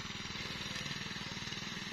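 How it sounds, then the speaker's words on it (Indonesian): Tractor fitted with a rotary tiller working a field, a steady loud mechanical drone with rapid rhythmic engine pulsing throughout, close by and continuous with no talk. "mencoba menggunakan rotary traktor, ternyata hasilnya seperti ini ya"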